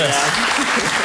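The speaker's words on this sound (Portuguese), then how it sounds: "Pode levar uma salva de palmas" A studio audience on a Portuguese morning television show gives a brief round of applause while a voice talks over the clapping.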